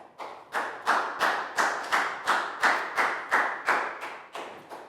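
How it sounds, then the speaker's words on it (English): Classroom applause in a Year 4 math lesson: about a dozen evenly spaced, rhythmic group claps, fairly loud and close, each a sharp hit with a short decay. "a big round of applause for Pangpon"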